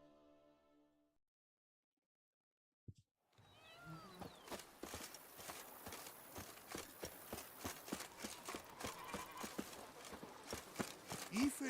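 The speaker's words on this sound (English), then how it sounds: "Even a horse drops if you ride it at a constant gallop." Horse hooves drumming at a steady gallop in The Witcher 3, a continuous rhythmic clip-clop that starts after a brief silence and builds louder over ambient game sound.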